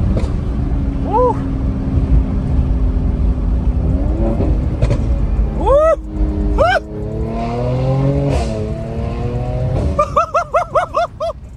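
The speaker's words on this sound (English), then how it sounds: "Performance exhaust already sounds good, but with that resonator out" A Mercedes C43 AMG engine revs repeatedly through a loud, raspy performance exhaust with the resonator removed, rising and falling in pitch, ending in a rapid burst of short blips.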